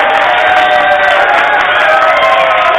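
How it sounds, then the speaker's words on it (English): An audience claps and cheers for a guest on a podcast stage, a dense, steady wash of applause and crowd noise lasting about three seconds, loud and close throughout. "Clap it up for him one more time."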